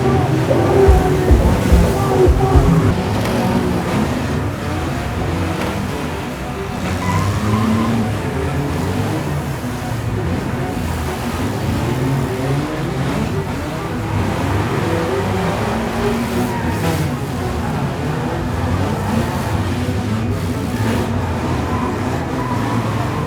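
Rally cars race on ice at the Hauka Romuralli 2025 scrap-car rally, a steady loud engine roar with revving and some tire noise throughout, with spectators talking and calling out over it.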